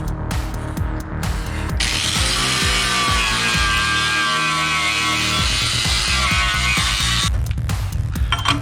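A power grinder works steadily against the painted metal of a car shock tower in a Honda Civic EG engine bay, a loud continuous abrasive whine holding for most of the stretch with rougher mechanical noise at the start and end.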